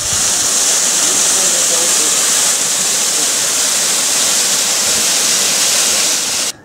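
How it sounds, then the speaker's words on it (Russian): The Kesukh waterfall near Goryachy Klyuch roars as a steady, loud, hissing rush of falling water that continues unbroken until it cuts off at the end. "И к таким водопадам относится, конечно, водопад Кесу."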